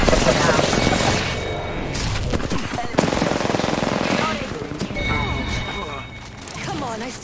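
Rapid automatic gunfire bursts in Apex Legends during a squad fight, dense and loud with overlapping shots, explosions and game voice lines mixed in throughout.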